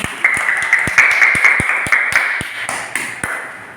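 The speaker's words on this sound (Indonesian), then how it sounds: "Silakan kasih tepuk tangan." A primary school class claps together in a classroom, a fairly close, loud burst of hand claps in a rough rhythm, with a few sharper individual claps standing out over the group.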